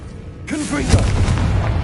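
Confringo blasting spell from the Hogwarts Legacy video game erupts into a sudden broad burst that keeps rumbling and crackling at the same level, with a voice partly over the start of the blast.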